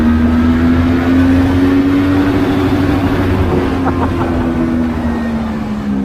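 A QJmotor Flash 600 V4 motorcycle on a racetrack, its four-cylinder engine screaming at high revs with a strong steady tone that dips slightly toward the end, loud and close.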